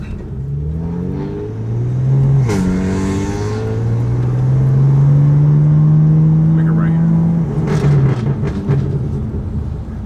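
A BMW F80 M3 engine with catless downpipes and equal-length exhaust revs up and climbs in pitch, holding a strong droning intake whine, then eases off, heard from inside the car with voices over it.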